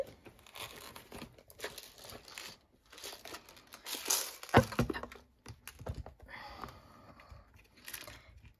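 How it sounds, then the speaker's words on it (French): A Crop-A-Dile hand punch makes small holes in Stampin' Up! paper for threading ribbon through an Easter chocolate berlingot box, giving a series of close crinkly crunches and sharp clicks with paper handling between them. "on va faire des petits trous pour pouvoir passer notre ruban au niveau du berlingot"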